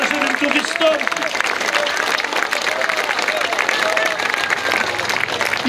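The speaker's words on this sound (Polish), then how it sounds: "proszę o szczególne brawa dla mojej żony" An audience at an outdoor singalong on Castle Square claps in a dense, continuous burst of applause, with crowd voices mingled in throughout.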